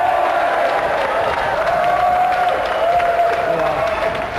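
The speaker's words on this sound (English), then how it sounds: "And a round of applause for the European Sega champion, Danny Curly!" A crowd applauds and cheers steadily throughout, a dense wash of clapping with scattered whoops, with no clear pauses.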